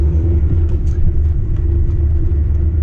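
A Honda Civic Type-R FN2 drives along, its engine and road noise a loud, steady low rumble from inside the cabin, holding even with no talking.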